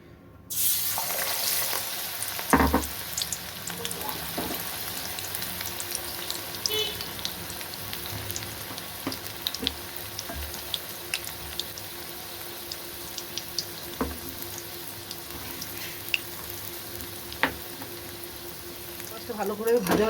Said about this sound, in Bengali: তেল বসিয়ে দিয়েছি, তেলটাও এদিকে গরম হয়ে গেছে। এবার আমি ধনেপাতাগুলো ছেড়ে দেবো।